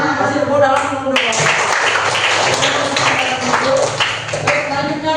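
A classroom of students applauds a group's presentation: a brief voice, then a steady burst of many hands clapping, fairly loud and dense, with voices mingled in.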